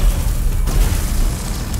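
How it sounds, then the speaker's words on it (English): A pipe bomb goes off in the survival horror game Resident Evil Village, a loud, close, low rumbling blast that rolls on for under two seconds with no voices over it. "Let me see if I got some mines or some pipe bombs."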